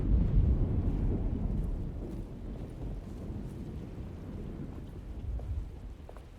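A thunderstorm with rain and wind in Alone in the Dark (2024): a steady, loud low rumble and rushing wash, strongest at the start, easing slightly, then swelling again near the end, with no voices.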